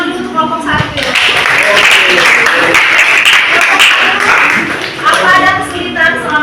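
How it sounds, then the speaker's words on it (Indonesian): A classroom group claps for the first group after their presentation in a school coaching session, a burst of dense applause of a few seconds, with voices talking before and after it. "Itu tepuk tangan dulu untuk kelompok 1 ya."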